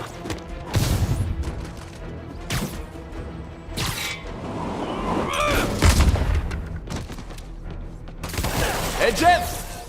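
Gunfire in the Spider-Man Remastered video game on PS5: repeated sharp bursts and shots punctuate a busy combat mix with crashes and rumbling impacts, spread irregularly across the scene.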